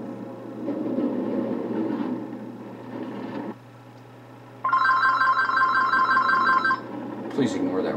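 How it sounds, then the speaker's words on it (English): An indoor telephone bell rings in one sustained, loud burst lasting about two seconds, following a stretch of someone talking over a rumbling train simulator. "Please ignore that ringing phone."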